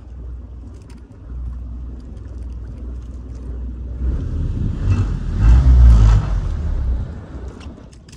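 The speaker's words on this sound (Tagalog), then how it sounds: "patayin natin yung makina mga idol para hindi maingay" A fishing boat engine runs with a low steady rumble, swelling louder and rougher for a few seconds toward the middle before easing back.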